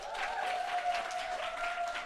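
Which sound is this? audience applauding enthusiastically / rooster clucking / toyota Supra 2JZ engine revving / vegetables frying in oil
audience applauding enthusiastically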